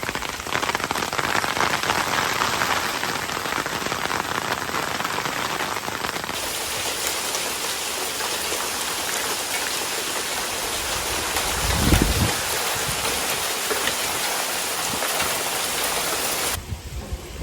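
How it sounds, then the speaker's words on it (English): Dense, steady pelting of a violent hailstorm on the Amalfi Coast in January, a constant loud patter that continues throughout with a brief low thump midway. "The next day, a sudden violent hailstorm covered the coastline in white."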